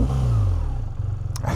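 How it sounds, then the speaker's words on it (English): A BMW R12 G/S boxer twin motorcycle engine starts up, a low rumble rising right away and settling into a steady, throbbing idle, loud and close with a short mechanical clatter near the end. "you press the power button, clutch in, and the bike rumbles itself to life"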